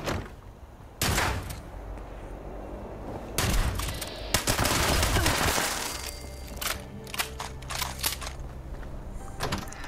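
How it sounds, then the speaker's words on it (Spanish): Gunfire in Fallout 76, several sharp shots and bursts spread through the stretch, fairly loud with clattering echoes and ambient game noise between them. "Alguien disparó."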